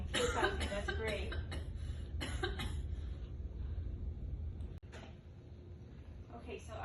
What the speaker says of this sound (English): Yeah, keep coughing. Keep coughing.